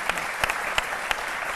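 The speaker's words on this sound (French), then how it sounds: "D'accord, on va l'applaudir." Studio audience applauding a guest on a TV talk show, a dense steady wash of clapping with a few sharper individual claps standing out, close and continuous.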